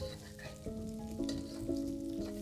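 Potatoes frying in bacon drippings, a quiet close sizzle under a few soft stirring scrapes, with sustained tones from background music running over it.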